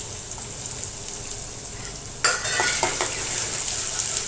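Garlic, ginger and onion hit hot oil and break into a loud, close sizzle with stirring scrapes, after a quieter steady background.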